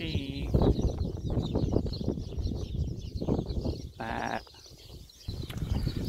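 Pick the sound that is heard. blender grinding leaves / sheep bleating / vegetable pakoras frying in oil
sheep bleating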